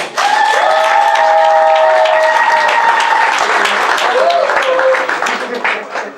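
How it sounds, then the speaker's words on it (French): A crowd at a trophy presentation ceremony applauds loudly and steadily throughout, with a tonal musical line running over the clapping. "Je vous demande d'applaudir d'abord très fort"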